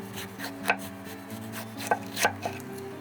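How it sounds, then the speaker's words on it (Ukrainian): A knife chops tomatoes into small rounds on a board, several sharp crisp cuts at an uneven pace, close and clear with no talk. "Нарізаємо помідори невеличкими кружальцями."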